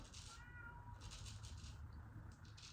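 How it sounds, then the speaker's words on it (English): A black-and-white cat meows insistently, faint and somewhat distant, in a few drawn-out repeated calls over a steady background hum. "It's a very insistent cat."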